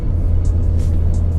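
A tuned BMW 335d diesel gives a deep, loud, steady engine rumble under acceleration, heard from inside the car for a brief moment with no talk.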